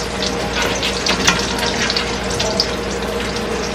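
French toast fries in a pan with a loud, dense, continuous sizzle and crackle that holds steady throughout, broken only by a couple of faint pops.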